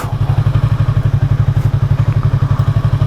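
A Yamaha R3 motorcycle engine runs loud and close while riding, with a fast, steady thumping rhythm that never lets up.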